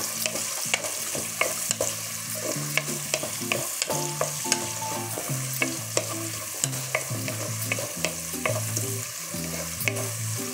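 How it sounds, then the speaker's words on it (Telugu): Sliced onions frying lightly in a pan with salt, made at home for pav bhaji: a steady close sizzle runs throughout while a utensil scrapes and stirs in a regular rhythm, with no one talking. "కొంచెం ఆనియన్స్ వేగాలి లైట్గా. కొంచెం సాల్ట్ వేసుకున్నామండి, త్వరగా వేగుతుంది."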